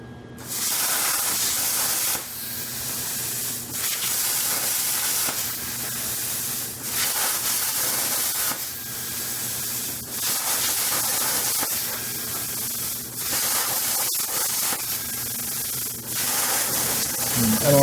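A plasma cutter slicing a series of slots into steel during an off-road trailer build, a loud steady hiss broken into repeated bursts of about two seconds each, with short gaps between cuts.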